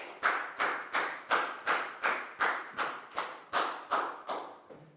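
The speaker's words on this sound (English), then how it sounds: "High five and a big round of applause for Prau" Eleven or twelve sharp, evenly spaced claps ring out close and loud in a classroom, a steady rhythmic round of applause from children for a pupil.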